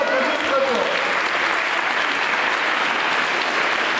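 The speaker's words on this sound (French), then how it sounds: "On peut l'applaudir très fort." An audience at a Gospel Kids singing prize event breaks into dense, steady applause, loud and sustained for the whole stretch with no voices rising above it.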